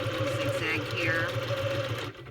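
A sewing machine runs a zigzag stitch on a paper tag for a floral junk journal, a close steady whirring hum for about two seconds that stops near the end, with a voice speaking over it.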